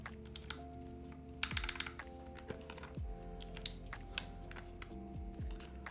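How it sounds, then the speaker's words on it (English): PBT keycaps are pressed onto a keyboard fitted with Holy Panda switches, producing a scattered series of quiet plastic clicks and snaps up close, irregularly spaced with short pauses. "let's put the keycaps on"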